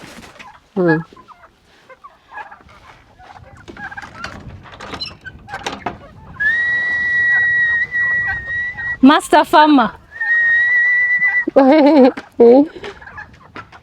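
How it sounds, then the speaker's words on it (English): Mixed farm poultry, including chickens, turkeys and ducks, call and gobble in bursts around a yard, with a steady whistling tone running through the middle and people talking between the calls. "So it's a mix of roadrunners, turkeys, ducks."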